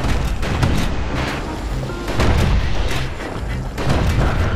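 Heavy artillery fire from security skiff guns in the Bastion video game, loud booming volleys that swell and ease in repeated waves, with rumbling low thuds like thunder.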